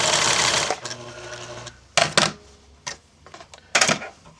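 A Pfaff 1471 sewing machine runs in a loud close whirring burst, then stops and restarts in several short mechanical spurts of uneven length, with no talk.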